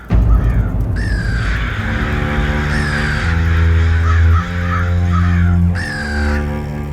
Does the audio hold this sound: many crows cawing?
yes